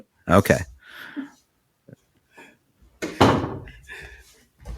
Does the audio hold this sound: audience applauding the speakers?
no